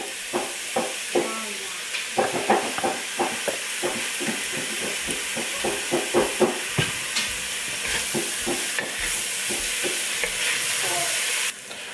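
Soy sauce and sweet chili sauce sizzle in a hot pan of Pad Thai stir-fry with tofu and carrots, under a constant frying hiss. Close, rhythmic clacks of a utensil tossing the food run throughout.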